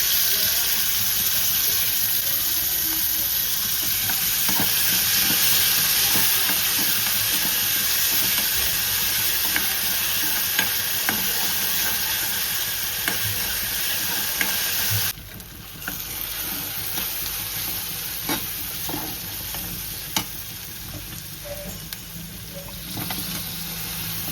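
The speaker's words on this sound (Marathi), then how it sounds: "आता शेंगा वगैरे टाकून मिक्स करून घेते" Drumstick pods are stirred and fried in a prawn gravy, with a steady loud sizzle, occasional spoon taps, and a brief dip partway through before the frying carries on.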